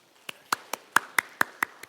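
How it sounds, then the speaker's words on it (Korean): A small congregation at a Korean Baptist church Sunday service claps in a short run of eight distinct, evenly spaced sharp claps, close and clear against a quiet room. "잘 되기를 바라는 마음에서 박수 한번 드리겠습니다"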